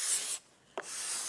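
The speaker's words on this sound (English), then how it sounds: "The scraper will quickly remove the mill marks and any small imperfections" A cabinet card scraper drawn across a wood surface, a soft broadband rasping stroke that stops briefly then resumes in a second steady pass, close and alone.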